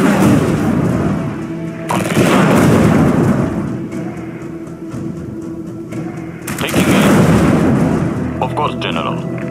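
Battlefield gunfire in the real-time strategy game Tempest Rising, repeated bursts of booming shots and rumbling impacts rising and falling over several seconds, with unit voices calling out between volleys.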